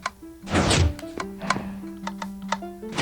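A tune plays in Minecraft, a faint looping melody of sustained low notes under a rhythm of sharp clicks and taps, with a rustling burst near the start.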